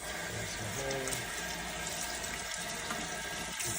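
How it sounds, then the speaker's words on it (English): Tap water runs into a kitchen sink at a moderate, steady hiss while hands are washed, with a few faint clinks partway through. "so I can wash those hands right now"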